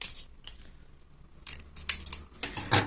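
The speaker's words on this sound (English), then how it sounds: "Cut off the extra bits" Scissors cut away extra bits of paper, producing a few sharp, close snips that come quicker toward the end after a quiet pause, with no talking.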